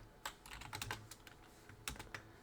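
Quick bursts of keystrokes tap on a computer keyboard, close and fairly quiet, in short irregular clusters with brief pauses between them and no voices.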